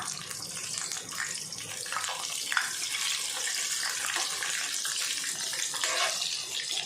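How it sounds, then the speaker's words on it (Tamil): Chicken 65 fries in hot oil, a dense, steady sizzle and crackle with small pops running throughout, close and moderately quiet, no talking. "அடுத்த பக்கம் திருப்பியாச்சு நல்லா பொரிஞ்சு வரட்டும் சிக்கன்"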